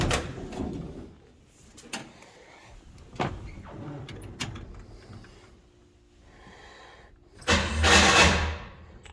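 Starter motor cranking on a 1964 Chevrolet Bel Air: scattered clunks and taps give way to one loud, rough whirring burst of cranking near the end, lasting about a second.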